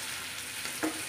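Bitter gourd fries with dried fish in a pan, a brief steady hiss of sizzling oil with a small stir or tap near the end, moderately quiet and with no voices.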